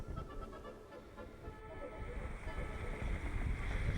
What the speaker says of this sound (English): The wind has eased overnight. It's down to 25, gusting to 30 knots at the moment